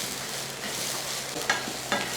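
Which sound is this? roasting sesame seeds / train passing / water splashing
roasting sesame seeds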